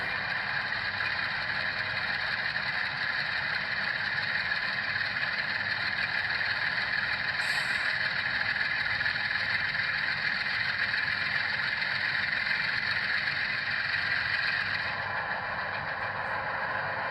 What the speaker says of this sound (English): It lets you control the engine sound independently from the speed of the locomotive.